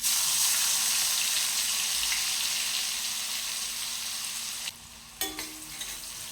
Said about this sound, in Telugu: ఆనియన్ బాగా ఫ్రై కావాలండి.